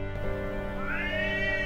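Cats fighting and caterwauling, a long, continuous yowl that rises and wavers in pitch over a steady droning background, loud and close, with no speech.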